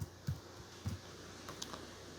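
Soft, faint keystrokes on a computer keyboard while entering a function in MathCad, a few scattered clicks and taps over a quiet room hum.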